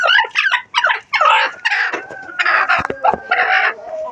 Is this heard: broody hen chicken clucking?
yes